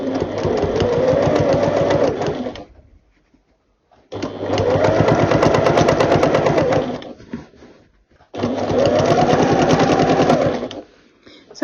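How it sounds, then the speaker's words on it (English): A sewing machine stitches binding onto a quilt in three sustained bursts of rapid, steady whirring, each a few seconds long and separated by short pauses, loud and close. "So as I'm stitching the binding onto the quilt here"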